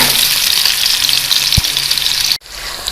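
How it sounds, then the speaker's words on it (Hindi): Onions fry in hot oil in a wok, giving a loud, steady, close sizzle throughout with a brief soft knock near the middle. "अब इसमें मैं प्याज शामिल कर दूँगी और प्याज को हमने गोल्डन ब्राउन कर लेना है।"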